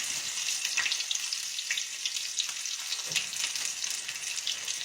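Onion rings fry in very hot grease, giving a continuous bright sizzle and crackle with occasional pops, close up and steady, with no talking.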